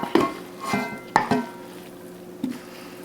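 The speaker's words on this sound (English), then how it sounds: "now we're going to bring in a skillet, nice cast iron. And I'm going to get everything right into the cast iron." Turkey wing stuffing spooned into a nice cast iron skillet, giving a few soft scraping and clinking knocks with a faint sizzle in a quiet kitchen, no talk.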